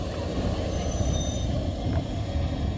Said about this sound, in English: Another truck!